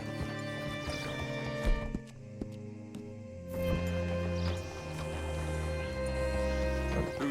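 Horse hooves clip-clopping at a walk in Red Dead Redemption 2, steady close plodding over a droning musical score, with an occasional snort and no talk.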